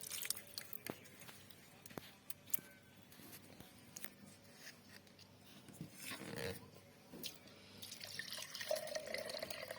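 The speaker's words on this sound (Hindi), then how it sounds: "पानी डाल देंगे हम इसमें।" Water poured into a cooking pot of mutton chops curry with tomato and ginger-garlic paste, a faint splashing trickle with scattered clinks and a louder gush near the end, no voices.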